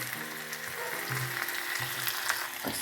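Chopped onion frying in a pan after mustard seeds were added, a steady close sizzle with light crackle, while faint tonal sounds hum quietly underneath.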